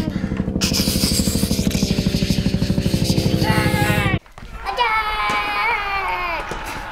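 A voice makes a rapid, pulsing whirring noise imitating helicopter rotors, then breaks into excited vocal sounds.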